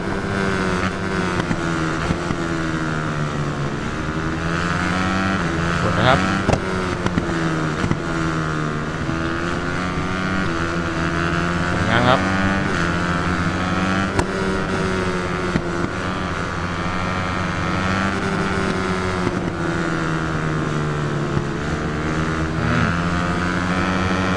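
Honda motocross motorcycle engines race in a video game, a continuous loud high-revving buzz with pitch rising and falling through gear changes and throttle blips, sustained without pause.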